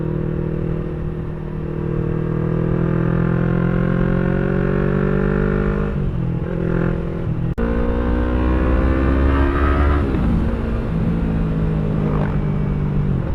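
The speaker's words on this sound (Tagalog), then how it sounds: "tinetest ride lang natin tong R3 ni Airpat" A 2018 Yamaha R3 V1 sport motorcycle on a test ride near Puerto Galera, its engine droning steadily and loud close up, pitch rising and falling as revs climb and shift, with road rumble throughout and no talk.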